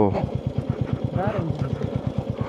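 A motorcycle on a snowy, slippery mountain road on the Tinjure–Bhojpur route in eastern Nepal throbs with a close, steady engine pulse under a brief burst of rising tone.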